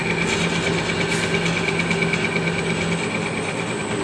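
A Rong Fu RF-19V variable-speed drill press runs steadily with a constant motor hum and whine, close and unbroken, with no voices.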